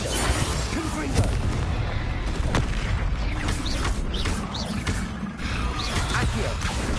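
In the Hogwarts Legacy video game, Confringo fire-spell explosions go off during combat. Repeated sharp booms and bursts hit over dense, noisy game action, with a voice talking throughout.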